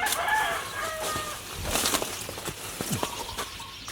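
Chickens and a rooster around a backyard chicken coop on a fruit farm, with clucks and calls in the opening seconds followed by rustling and scattered short noises, fairly close and moderately loud.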